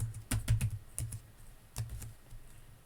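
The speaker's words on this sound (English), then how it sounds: "we're going to type it this time" Keys clatter on a computer keyboard while a formula is entered in Excel 2016: quick bursts of close, crisp keystrokes separated by short pauses, with no voice over them.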